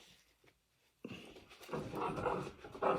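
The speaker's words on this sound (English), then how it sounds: "Oh, that growling is Mr. Miro, my little dog" A small dog growls and grumbles close by indoors, starting after a second of near silence and building into a continuous, rising rumble with brief louder bursts toward the end.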